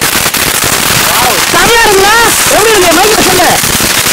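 A peacock firecracker goes off during Diwali, giving a loud crackling, spraying hiss with rising and falling whistling tones over several seconds, with people talking over it.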